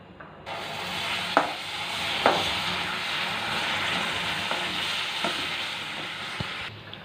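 Roasted gram (pottukadalai) being stirred with sugar syrup in a pan for barfi, a steady scraping and stirring hiss with a few sharp clinks of the spoon against the pan.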